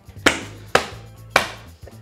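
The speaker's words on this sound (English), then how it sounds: "Let's get to chopping." Three sharp knife chops on a cutting board while preparing chicken Marsala, spaced unevenly and close, each a crisp thud with a short fade.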